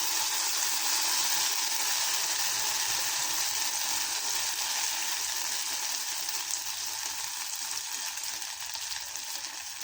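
Dibba rotti batter frying in oil in a pan over a low flame, giving a steady, bright, continuous sizzle that holds close and loud throughout, with no voices.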